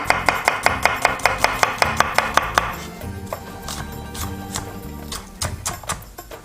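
A knife roughly chopping red onion on a board, about a dozen quick, sharp, evenly spaced chops up close, then looser, irregular cuts and scraping.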